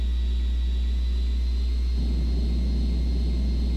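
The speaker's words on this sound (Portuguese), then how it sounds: "o barulho da decolagem" Aircraft takeoff in the video game Ace Combat 2 on its PS2 port: a steady low engine rumble with a constant high whine, which swells slightly midway and stays fairly quiet throughout.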